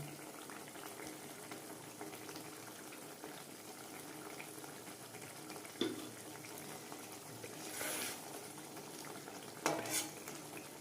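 Gravy bubbles steadily in a pan with brinjal for begun paturi, a soft continuous simmering with a couple of brief louder pops, fairly quiet and without talk.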